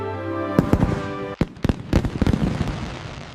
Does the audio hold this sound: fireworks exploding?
yes